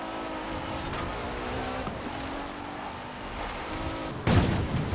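Car racing in Forza Horizon 4 during an autumn festival event, a continuous engine drone with shifting revs and a sudden loud burst near the end.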